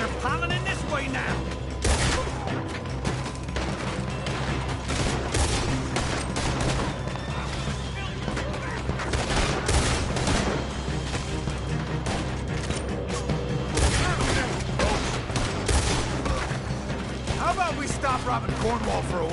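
Sustained gunfight in Red Dead Redemption 2, with dense overlapping rifle and pistol shots cracking continuously throughout, mixed with mechanical clatter and voices talking over the chaos.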